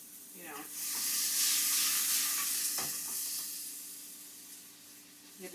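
Pork fat sizzles loudly in a pan with spinach, a broad frying hiss that swells after a stir and slowly fades, with faint clinks.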